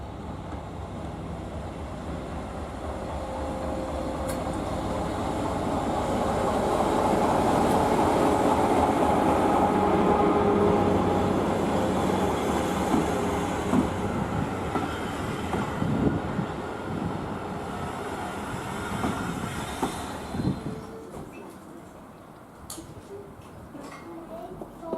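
A Lego model train rolls along its track at a model railway station with a steady rumble that swells and then fades over about 25 seconds before trailing off.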